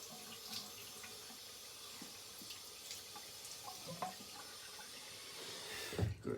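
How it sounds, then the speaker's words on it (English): Tap water runs steadily into a sink while a face is wetted before a wet shave, a soft continuous hiss with faint splashes, ending in a louder splash. "Good, just getting the face wet."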